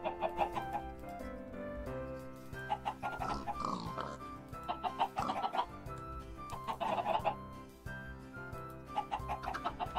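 Chickens cluck repeatedly in a Christmas nativity scene build in a video game, a busy run of short clucks and calls layered over a steady tonal background, with no talking.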